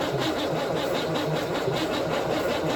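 A 1960 Cadillac Series 62 engine cranks over on the starter without firing, a loud, close, steady rhythmic churning that holds evenly through the short burst.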